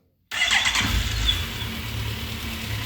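A 2007 Suzuki Bandit 1250S motorcycle starts after silence with a brief starter whine, then the engine catches and settles into a steady, fairly quiet idle nearby, with a big muffler and no voices over it.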